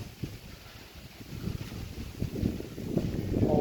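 Cool wind blowing at a hillside temple, Wat Khao Phra Angkhan in Buriram, Thailand, as a steady low rush of wind buffeting the microphone, growing louder and gustier toward the end, with no voices.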